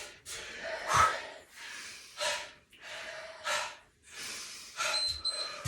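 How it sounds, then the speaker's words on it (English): Heavy, rapid breathing during a cardio workout, a series of loud gasping breaths and puffs in uneven rhythm, close to the microphone with no talking. "Big breath. Deep breath."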